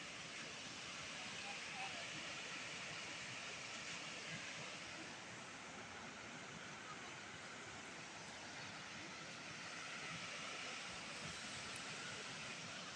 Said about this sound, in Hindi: रीवा से 25 किलोमीटर की दूर पे एक प्राकृतिक झरना है बनास नदी पे।